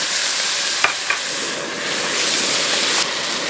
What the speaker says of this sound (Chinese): 葱姜蒜炒香之后，倒入猪肝。